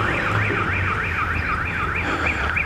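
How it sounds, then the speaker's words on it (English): A car alarm on Long Island sounds loud and continuous, with a fast, regular warbling tone that sweeps up and down over steady background noise. "I always get the alarms."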